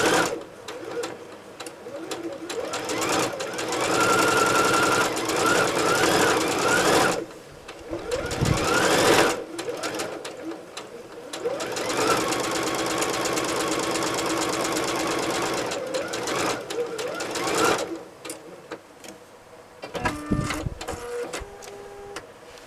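Sewing machine chain piecing flying geese quilt blocks, fast steady stitching in long close bursts separated by short pauses, with light clicks and handling between runs.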